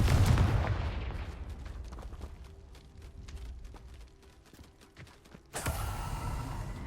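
Confringo fire blast spell cast in the Hogwarts Legacy video game: a loud burst opens, then crackling and scattered impacts fade under a low rumble before a second strong blast of sound returns near the end.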